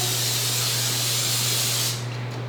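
A continuous hiss of cooking spray onto a waffle bubble maker for about two seconds, then it cuts off, leaving a faint low hum.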